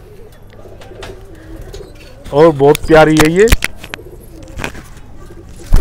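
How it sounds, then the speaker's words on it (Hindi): Domestic pigeons, including a black one, coo in a few soft, rolling bursts near the middle, with a person speaking briefly nearby and some background noise. "काला कबूतर"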